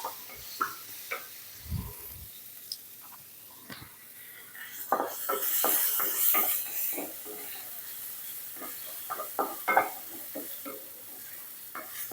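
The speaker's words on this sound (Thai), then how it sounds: "นี่ค่ะผัดไปเรื่อยๆให้หอมเลยค่ะ" Shallots, lemongrass and chili sizzle and crackle in a hot pan with scattered scraping stirs and clinks, a soft steady hiss swelling in the middle.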